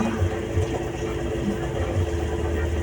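A motorcycle stuck in deep, wavy flood water in Malabon gives off a steady low engine rumble with faint irregular pulses, like a struggling idle, close and continuous, with no talking.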